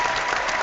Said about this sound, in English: And then the applause.